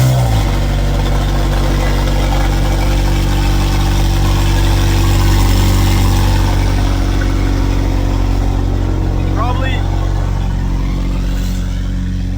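A McLaren 720S fires up in a garage with a sharp startup flare, then settles into a loud, steady, deep idle that holds unbroken for over ten seconds.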